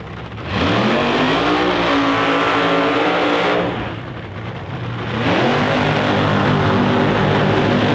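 Funny cars launch in the final round of an alcohol-class drag racing event, each run a loud, close, rising engine roar climbing in pitch, with two separate surges split by a brief lull.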